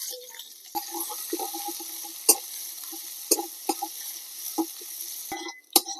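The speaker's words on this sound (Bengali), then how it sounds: "এবারে কুচিয়ে রাখা পেঁয়াজ দিয়ে দিচ্ছি।" Chopped onion dropped into hot oil already tempered with nigella seeds and whole dried chillies, sizzling steadily while a spoon stirs with several sharp scraping clinks.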